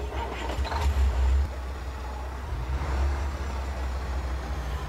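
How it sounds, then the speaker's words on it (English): A Ural 4320 truck in Euro Truck Simulator 2 cranks and starts, a deep rumble swelling briefly at the start before settling into a low, steady idle with no voices. "Now that is a nice truck starting up."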